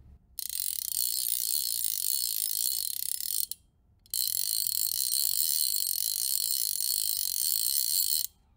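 Ross Colorado click-and-pawl fly reel drag clicking in two long continuous bursts of rapid, bright ratcheting with a brief pause between, close and alone.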